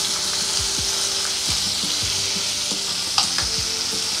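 Cut tomatoes and carrots fry in a pan for mixed vegetables, a close, continuous sizzle punctuated by several sharp spatula taps and scrapes against the pan.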